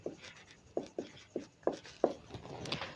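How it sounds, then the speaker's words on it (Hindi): Marker or chalk writing numbers on a board during a trigonometry lesson, a series of short scratchy strokes and taps in irregular rhythm, close and fairly quiet, no speech. "10 लिखते हैं।"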